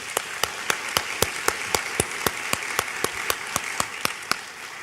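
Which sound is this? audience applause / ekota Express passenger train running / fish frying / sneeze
audience applause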